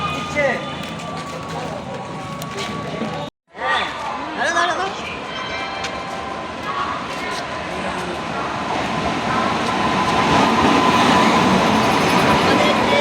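A passenger train runs back toward Sealdah, Kolkata, its wheels and carriages rumbling and rattling continuously. The noise swells louder toward the end, with voices occasionally audible in the carriage.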